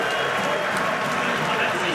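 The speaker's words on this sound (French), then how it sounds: "applaudissements pour Sambou Traoré qui apparemment est exclu" A basketball crowd in a French arena applauds a player leaving the game after a foul-out, a dense, steady wash of clapping and crowd noise under a commentator's voice.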